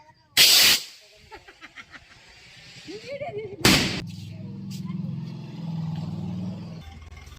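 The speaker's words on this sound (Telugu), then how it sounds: "మా నాయన కావాలని ఆ టపాసులు వెలిగిస్తా ఉన్నారు" Firecrackers set off at a village hair-tonsuring ceremony give two sharp, loud bangs a few seconds apart, each with a brief hissing burst, followed by lower rumbling and faint voices.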